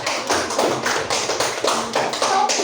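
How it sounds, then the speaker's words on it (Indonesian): A classroom of pupils claps for a classmate in a school lesson, a close burst of rhythmic, evenly spaced group claps. "Oke, tepuk tangan kepada Rehan"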